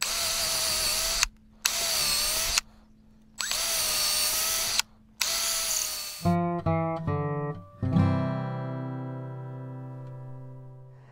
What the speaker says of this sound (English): I like to drill out this piece the same size as the lag screw.